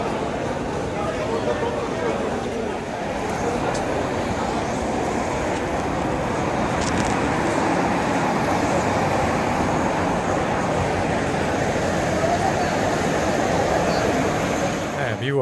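Busy Sealdah railway station crowd and traffic, a steady dense wash of voices, movement and rail and road noise continuing loudly throughout with no quiet gaps.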